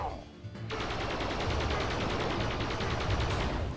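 Buzz Lightyear's laser in the Toy Story 2 video game fires in a rapid, steady stream of repeated zaps that run almost continuously after a brief quiet start.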